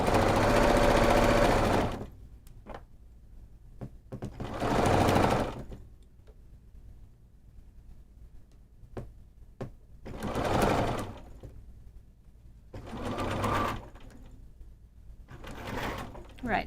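A sewing machine stitches bias binding onto a small flat piece in several loud bursts of rapid mechanical whirring, separated by quiet pauses with a few small clicks.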